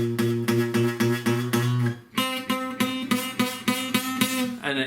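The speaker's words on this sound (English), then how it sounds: "where you get strings buzzing like" Guitar chord, badly fretted, with strings buzzing, strummed over and over in a steady pattern: two runs of about eight even, close strums, each ringing briefly before the next, with no talking.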